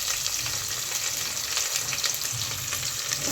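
Onion frying in a saucepan over a low flame for mutton curry, giving a steady, close, continuous sizzle with soft crackles throughout and no talking.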